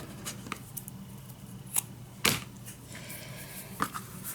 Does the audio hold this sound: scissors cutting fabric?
yes